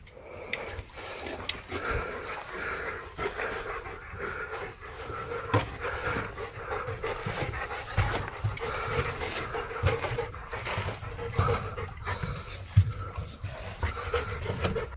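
A dog pants steadily and close by, quick rhythmic breaths running through the whole stretch with faint sniffs and whimpers mixed in. The setting is a cave entrance where the hiker's dog refuses to go any further.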